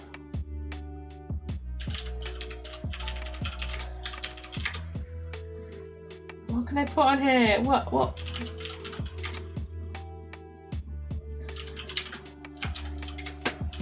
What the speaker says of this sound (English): I'm just typing in the most random shit.